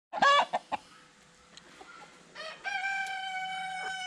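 A young rooster crows nearby, with a few sharp clucks at first, then a strained, wavering crow that swells and holds to the end.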